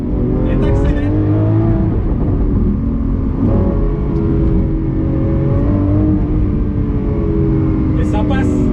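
A Lamborghini Aventador SVJ accelerates on the road with a loud, continuous high-revving engine roar that rises in pitch, heard close from inside, with faint voices briefly over it.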